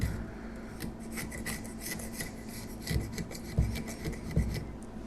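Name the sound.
chisel scraping super glue off the sides of a plate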